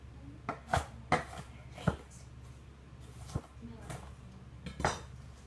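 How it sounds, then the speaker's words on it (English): A knife roughly chops cooked bacon on a board for a loaded baked potato casserole, sounding as a handful of irregular close knocks and clinks. "So I'm just going to roughly chop it."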